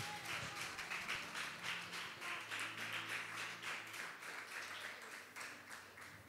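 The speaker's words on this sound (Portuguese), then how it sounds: "Então aplaude ao Senhor em nome de Jesus." Congregation applauding during a church worship service, sustained dense clapping from many people filling the room, steady throughout with a low hum underneath.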